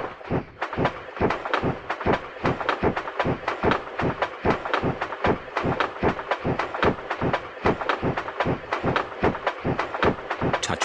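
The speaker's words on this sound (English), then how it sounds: "Turn the wheel to make the train go slower." Train ride in a Peppa Pig theme park video game chugs along with a fast, regular rhythmic thumping, steady and evenly spaced, with no voices.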